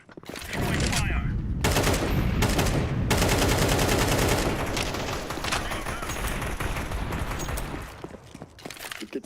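Counter-Strike 2 gunfire and grenades ring out during a Shanghai Major match: dense automatic bursts and sharp cracks go on nearly throughout, with a booming blast. A voice talks over the fight.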